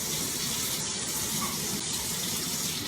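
Steady rush of tap water pouring continuously into a sink while something is washed off, close and even in level from start to finish, with no voices.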